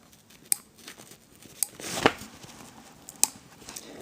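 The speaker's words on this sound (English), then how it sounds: "you gotta push the the scissors through and then cut around it like so" A few sharp scissor snips cutting a mousepad, spaced a second or so apart, with a rustling scrape of material being cut in between; close and fairly quiet.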